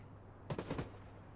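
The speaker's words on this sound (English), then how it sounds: "Gunshots going in." A quick burst of three or four muffled video game gunshots in rapid succession during a competitive match, brief and fairly faint over a low background hum.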